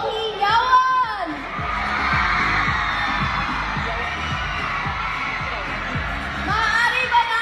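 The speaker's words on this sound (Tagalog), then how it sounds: "Kung kayo ay nabusog, maaari ba naming marinig ang inyong hiyawan?" Students at a school gathering cheer and shout together in a sustained, loud crowd roar lasting several seconds, framed by an amplified voice at the start and end.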